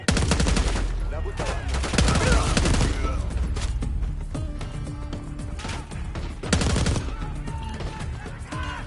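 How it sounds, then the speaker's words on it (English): Intense gunfire exchange in the Call of Duty Black Ops 6 campaign, sustained automatic bursts and crackling shots with sharp impacts, loud and close, alongside speech and shouting. "Exchanging fire!"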